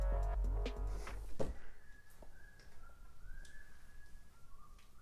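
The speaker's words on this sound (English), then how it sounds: "If you could not whistle, that'd be great." A person whistles at home, a thin, wavering tone holding steady for several seconds after a loud clatter, moderately close over faint background noise.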